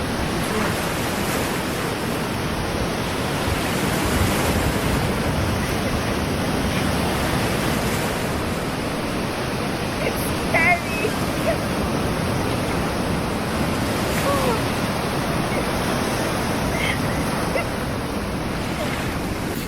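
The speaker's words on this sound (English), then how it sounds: "I went to the banks of the sea to try the water" Sea waves wash continuously onto Tawala beach, a private shoreline, in a loud, steady roar of surf. Wind buffets the microphone and no one speaks.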